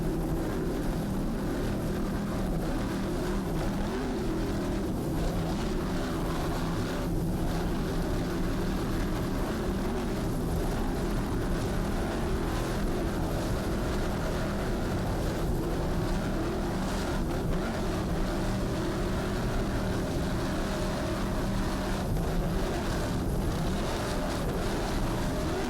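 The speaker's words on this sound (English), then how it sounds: "Nice throttling there on board Briosky by Jay Muller." An offshore racing powerboat's engine in the 2003 offshore grand prix, a steady, loud, continuous roar heard from on board that holds for the whole stretch with no talk.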